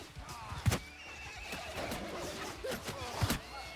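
A horse in a battle video game gives two loud, close whinnies amid hoof clip-clops and the busy clatter of combat.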